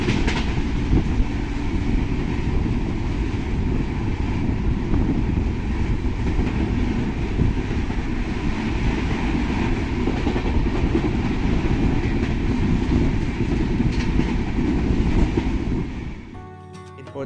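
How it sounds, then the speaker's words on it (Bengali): Indian Railway passenger train running at speed through open countryside between Howrah and Ghatshila, heard from on board as a continuous loud rumble with rhythmic wheel clatter, cutting off abruptly at the end. "ট্রেন শহরাঞ্চল ছাড়িয়ে একটু গ্রামের দিকে ঢুকতেই নিল দেদার গতিবেগ"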